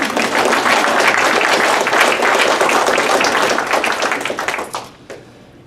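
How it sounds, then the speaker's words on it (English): An audience at a Hall of Honor induction ceremony applauds a 2006 conference championship team, with dense, loud clapping sustained for several seconds before fading quickly into near silence. "So clap for those guys in 2006"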